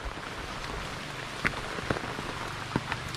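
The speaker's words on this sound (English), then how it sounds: "It's raining now, huh?" Steady rain patters on a surface, with a few louder drips landing now and then against the constant hiss.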